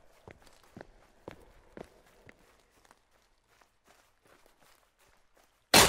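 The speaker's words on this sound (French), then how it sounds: "Il y a des bruits de pas partout." Footsteps in the Sons Of The Forest video game fall in a steady, fairly close walking rhythm, then fade and scatter into faint, irregular steps before a sudden loud burst at the end.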